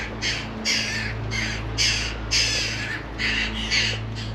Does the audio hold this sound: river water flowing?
no